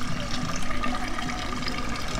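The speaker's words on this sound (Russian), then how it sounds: "в воде лежит, циркулирует водичка" Water steadily circulating and burbling in a seafood display tank holding Crimean oysters at a Yalta market, a continuous close wash with no voices.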